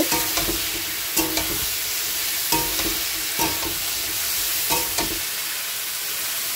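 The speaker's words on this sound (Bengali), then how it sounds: "আলুটাও পেঁয়াজের সাথে ভেজে নেব।" Chopped potatoes fry with onions in a pan, a continuous sizzle broken by repeated sharp scrapes and clatters of stirring at irregular intervals.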